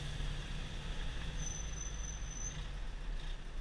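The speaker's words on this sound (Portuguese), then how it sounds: "Freio motor. Vou acionar aqui, ó." The engine brake on a 2014 Mercedes-Benz Accelo 1016 truck in the city is engaged, giving a steady low droning rumble with a faint high whine through the cab, constant and unbroken, without voices.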